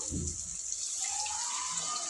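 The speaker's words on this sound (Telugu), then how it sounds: "ఇప్పుడైతే తగినన్ని నీళ్ళు పోసుకుందాం" Water poured into a pot of okra tamarind curry, a steady soft splashing stream running throughout at close range with no talk.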